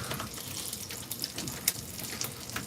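A steady soft liquid pour of cow's milk, A2 milk, into a cup of matcha, a continuous close splashing wash running throughout with no talking.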